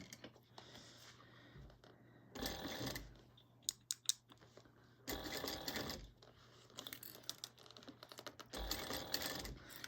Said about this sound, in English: And we're going to sew around at 1/8 of an inch.